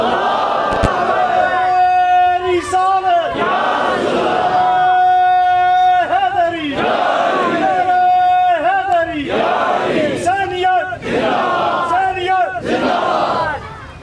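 A large crowd answers a takbir call with loud, rhythmic chanting, repeated bursts of many voices shouting in unison roughly every two seconds, close and dense throughout.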